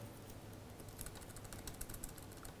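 Quiet, rapid keystrokes come from a computer keyboard, a light irregular patter of clicks that stays faint and close with no speech.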